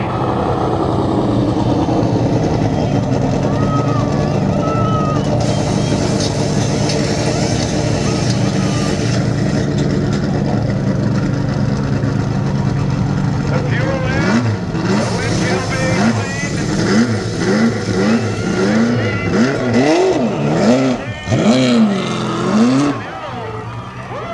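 A race car at the 1982 Rockford Speedway pit stop championship pulls in for a pit stop, its engine rising and falling in pitch as it draws near and grows louder toward the end, under ongoing voices and general track noise.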